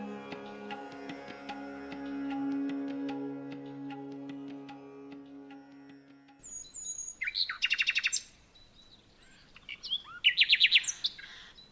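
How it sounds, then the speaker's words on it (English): Nightingale song in a spring wetland: two bursts of bright, rapid chirping and trilling, fairly close, follow a quiet stretch after a sustained low tonal drone fades out. "the wetland where the nightingale sounds are echoed"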